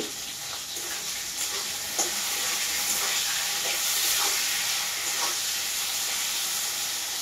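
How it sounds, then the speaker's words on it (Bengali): Pointed gourd pieces fry in hot oil in a pan, lightly salted and browning, producing a continuous bright sizzle and crackle with occasional spatters, steady and close. "হালকা লাল লাল করে ভাজবো"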